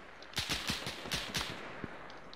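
Rapid bursts of Arma 3 military shooter gunfire, several sharp reports in quick succession followed by scattered single shots, fairly loud and close with no talking.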